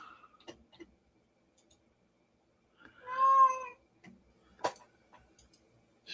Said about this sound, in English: She can meow up a storm.